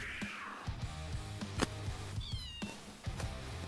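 A cat meows a few times in the video game Robocat, fairly faint amid game clicks and thumps, with no voices over it.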